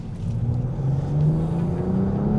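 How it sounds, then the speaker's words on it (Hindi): A BMW M440i Convertible's exhaust drones with a deep, loud, steady rumble, close up, as the engine pulls under load for a couple of seconds without speech. "बाकी इन जनरल इसका एग्जॉस्ट लाउड है"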